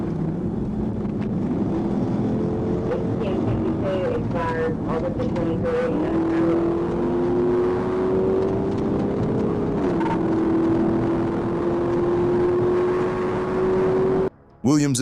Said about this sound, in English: It accelerated, engine screaming, speedometer pushing beyond 150.